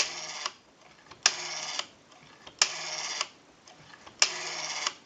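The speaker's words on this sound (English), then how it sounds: "We have a nice smooth return on our rotary now." Rotary telephone dial on an Automatic Electric Monophone whirring back after each number, four crisp bursts of rapid clicking a second or so apart with quiet gaps between.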